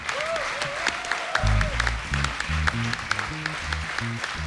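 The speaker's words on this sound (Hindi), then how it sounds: "चारों के लिए जोरदार तालियां।" Studio audience applause on a Hindi comedy talk show, a steady wash of clapping running throughout with low music beats entering partway and a brief sung or voiced tone early on.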